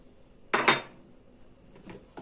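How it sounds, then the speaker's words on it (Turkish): Mücver batter of flour, baking powder and salt being stirred in a bowl, with one loud scraping burst of a utensil against the bowl followed by two fainter knocks, close up and without talk. "Karıştırıyorum."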